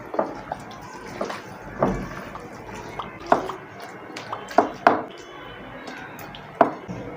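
Beef is mixed by hand with mustard oil, salt and lemon juice, giving wet squelching pats and a few sharp clacks against the bowl in short irregular bursts, with faint background noise and little talk.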